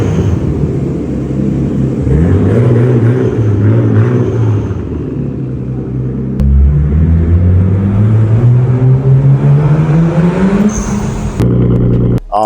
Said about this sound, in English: The exhaust when you were coming in, I got a little clip of that.